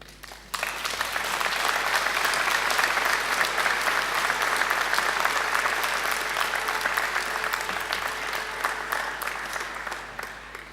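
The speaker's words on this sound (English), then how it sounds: "And now I invite you to give them a mighty round of applause." A crowd at a graduation ceremony bursts into sustained applause, a loud, dense wash of clapping that holds for about ten seconds before easing slightly toward the end.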